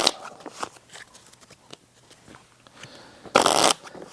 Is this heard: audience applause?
no